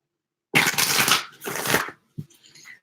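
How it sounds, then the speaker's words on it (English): A deck of tarot cards is shuffled close by in two quick riffling bursts, followed by a few soft taps as the cards are squared. "One more shuffle."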